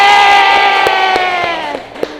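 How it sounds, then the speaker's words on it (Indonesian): Classroom group cheers loudly in a sustained chorus of voices that fades over two seconds, with a few sharp claps scattered through it. "Ya, tepuk tangan dong buat Sandi."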